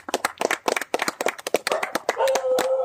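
A few people clap hands in quick, uneven bursts close by, followed by a sustained tone and murmuring voices at the end.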